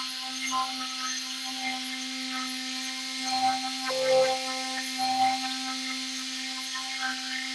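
A power sander works over rock chips in car paint, a steady electric whine with a fixed hum, the grinding swelling and easing in short passes as the pad presses against the surface.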